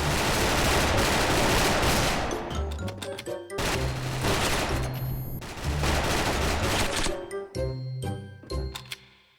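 Bursts of BOLT G36C rifle fire in a bomb-planting mode of the shooter game SF, loud and close, coming in several dense volleys separated by short pauses, with bright metallic pings in between.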